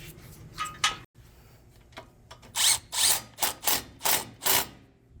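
A power tool drives a 10 mm bolt into a brake line bracket on a Ford F-150 during a front hub install, firing in a rapid series of six short, loud bursts after a few faint clicks.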